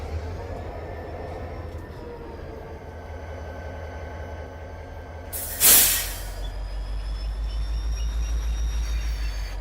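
A locomotive in the Farming Simulator 25 video game rumbles steadily with a low engine drone, broken by a sharp burst of air-brake hiss near the middle, after which the engine note swells and pulses louder.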